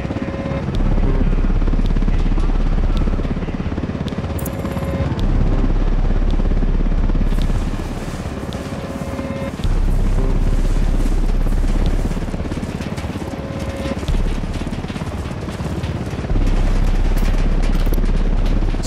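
Helicopter rotors beat steadily overhead in a stealth video game, loud and continuous with a heavy low-end rumble that swells and eases in waves throughout.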